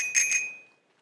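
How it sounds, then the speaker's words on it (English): A bicycle bell in Untitled Goose Game, struck by the goose's beak, gives two quick bright metallic dings in close succession and then rings out and fades to silence. "use your beak to hit the bike bell"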